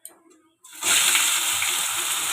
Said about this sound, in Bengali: কচুর লতিটা দিয়ে একটু ভাজা ভাজা করে নেব